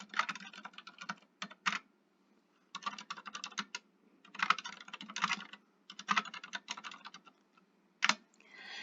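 Someone types a full name on a computer keyboard in quick bursts of close, crisp key clicks, broken by short pauses, with no talk.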